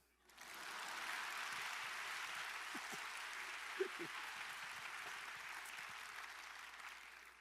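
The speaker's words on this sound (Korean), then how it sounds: "박수." A church congregation claps together in steady, sustained applause at a revival meeting, fairly soft and even from start to finish, with a few faint louder claps standing out.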